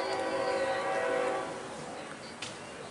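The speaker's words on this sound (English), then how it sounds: "As much as that train is coming, so is Jesus." A train rumbles steadily nearby and its horn blares for the first second or so, then the horn stops and the rolling rumble carries on.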